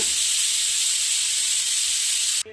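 A pressure cooker holding avarekalu huli saaru (field bean sambar) vents steam through its whistle in a loud, steady high hiss lasting a couple of seconds before cutting off abruptly.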